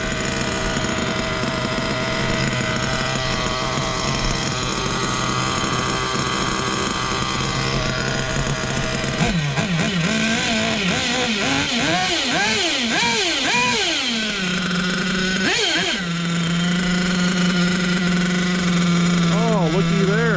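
An Ofna LX2 nitro RC buggy engine idles loud and close with a steady buzzing drone, its pitch rising and falling in several quick revs midway before settling back to idle.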